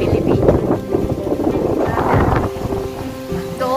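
Strong, gusty typhoon wind in Bicol, Philippines, roars across the microphone in heavy buffeting bursts, steady throughout, with faint tonal whistles rising near the end.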